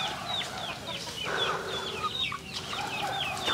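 Chickens cluck on a farm, with several hens calling in short, overlapping bursts at a moderate distance. The clucking is steady over a noisy outdoor background.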